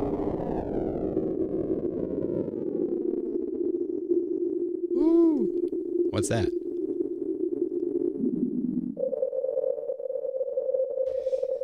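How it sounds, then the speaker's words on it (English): Sine wave from the Absynth 5 synth fed through a ring modulator, holding a steady buzzing tone with rich overtones that bends, wobbles and then steps to a higher pitch, with a brief voice in the middle. "So the sine wave is going through the ring mod that's a noise, and it's set to a Hertz that's pretty high."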